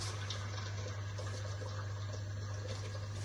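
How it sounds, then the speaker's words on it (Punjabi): Hot water poured into a pot of lentils for khichdi, making a steady, even rush of liquid that runs unbroken for a few seconds over a low steady hum. "ਹੁਣ ਆਪਾਂ ਇਹਦੇ ਵਿੱਚ ਗਰਮ ਪਾਣੀ ਪਾਉਂਦੇ ਆ"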